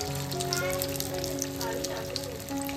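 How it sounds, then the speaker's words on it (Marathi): Sabudana vadas fry in hot oil with a steady, dense sizzle and crackle throughout, while someone talks over the frying. "सो आता एक एक करून आपण सगळे तयार करून घेऊया तळून घेऊया"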